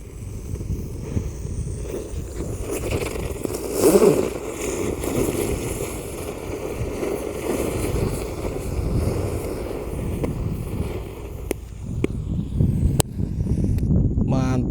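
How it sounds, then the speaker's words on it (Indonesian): A ground spinner firework burning inside a hole dug in the ground gives off a steady roaring, hissing rush that lasts throughout, with a louder burst early on and crackling pops near the end, heard outdoors. "Lanjut yang kita nyalakan di dalam tanah ada gangsingan atau roda gila."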